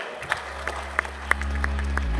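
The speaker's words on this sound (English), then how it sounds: "A big round of applause, everyone." An audience at a grand awards ceremony breaks into a short burst of applause, dense clapping building and holding steady for a couple of seconds.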